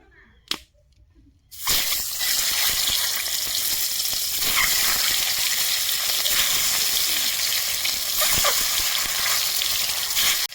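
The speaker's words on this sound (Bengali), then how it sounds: "আমার ডিমটা ভাজানো হয়ে গেছে," An egg frying in hot oil in a wok: after a brief quiet knock, a loud steady sizzle starts and holds, close and constant, with no talk over it.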